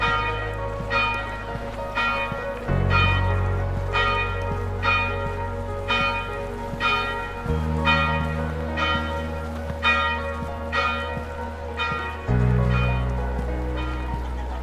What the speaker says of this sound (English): Oh, there's a bell.